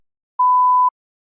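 One clean, steady electronic beep of about half a second, the prompt tone in a TOEFL practice exam, rings alone against silence.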